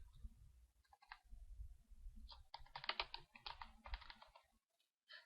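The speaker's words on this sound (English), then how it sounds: "we're going to type maple trees" Keys clatter on a computer keyboard as text is entered into an Excel spreadsheet, quiet bursts of rapid clicking in short runs, ending in a brief pause.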